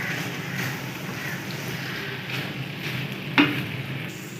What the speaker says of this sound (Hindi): अब हम शिमला मिर्च ऐड करेंगे 2 से 3 चम्मच बारीक चॉप किए हुए। इसे भी हल्का सा फ्राई कर लेंगे।